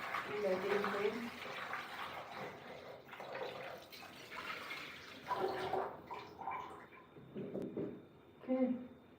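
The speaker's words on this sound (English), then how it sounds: "To rinse my potatoes one more time because I cut them in half and I didn't rinse." Tap water running into a sink while cut potatoes are rinsed in a home kitchen, with splashing and trickling in uneven bursts and a voice talking over it in places.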